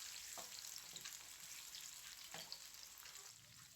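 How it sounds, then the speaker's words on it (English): Onions frying in oil in a pan give a steady, soft sizzle with faint crackles, heard alone without talk. "We fry."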